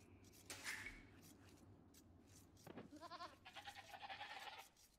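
Sheep bleating in the Age of Empires II strategy game, several quick wavering bleats in a row, moderately loud, over soft game background sound.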